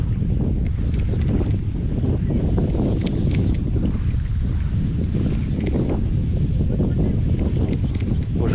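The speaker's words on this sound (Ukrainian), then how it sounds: "Вітер дуже сильний." Strong wind at a fishing spot on the water roars steadily against the microphone, a loud continuous rumble with gusty buffeting throughout.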